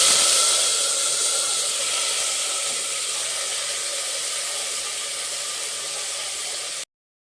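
Tomato, onion and green chillies frying in a pan, a steady loud sizzling hiss that eases slightly over several seconds before cutting off abruptly, with no talking.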